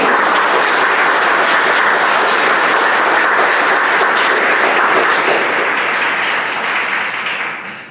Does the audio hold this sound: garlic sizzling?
no